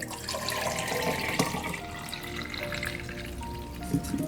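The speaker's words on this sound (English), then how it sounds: "And then I'm going to add some clean filtered water." Clean filtered water poured into a container, a steady moderate stream of running liquid that continues throughout with faint shifts in pitch as it fills.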